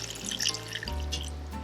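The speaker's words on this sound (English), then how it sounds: "Now I'll add the hot water to the goat." A brief splash of hot water pouring into a pot of goat curry, a steady liquid rush with faint metallic resonance, close and moderately loud.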